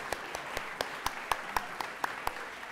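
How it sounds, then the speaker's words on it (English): Sparse, fairly faint audience clapping at a humanitarian awards ceremony: a handful of separate claps in loose rhythm, heard at a moderate distance without talk. "I think you should just clap."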